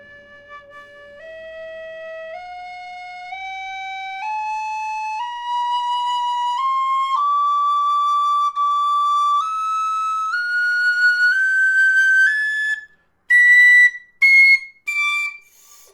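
A Mazur high D tin whistle plays a slow rising scale of clear, pure held notes, stepping upward one by one, then ends with a few short, detached high notes separated by gaps.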